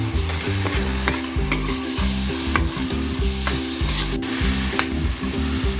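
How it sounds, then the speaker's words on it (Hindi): Masala frying with a splash of water in a pan, loud continuous sizzling with regular rhythmic stirring scrapes repeating about once a second, no voices. "थोड़ा सा पानी शामिल करेंगे ताकि मिर्च वगैरह जले ना, और इस मसाले को अच्छी तरह भून लेंगे"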